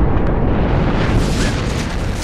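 A grenade blast in Far Cry 4, Valley of the Yetis, heard as a loud, dense roar of noise that fills the whole clip and eases only slightly toward the end, with no talk over it.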